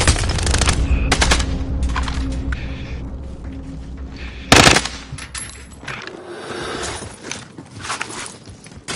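Video game gunfire in rapid automatic bursts with scattered single shots and one sharp loud blast midway, close and busy against a constant rumbling background.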